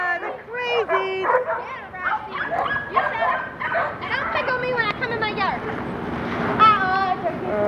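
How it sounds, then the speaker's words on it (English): Several small dogs bark and yip in quick, high-pitched bursts close by, with a few whimpers mixed in and a murmur of voices in the background. "look, the little dogs are moving"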